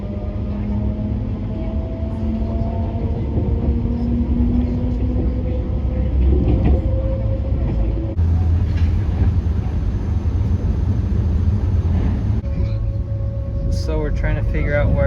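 Riding aboard a refurbished Alfa Pendular high-speed train heading north toward Porto in Portugal, with a loud, continuous low rumble and whining tones in the cabin, interrupted by brief shifts in the noise, and people talking over it.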